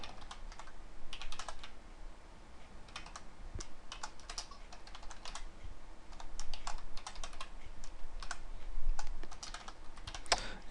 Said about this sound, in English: And you see I'm typing rather hurriedly.